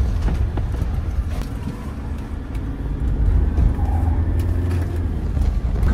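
Old-generation Toyota Fortuner rolling over a rough unpaved track, with a steady low rumble of engine and tyres and bumps from the surface, close and continuous throughout without any talk.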